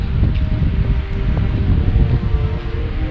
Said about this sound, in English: it's so windy, it looks like the sea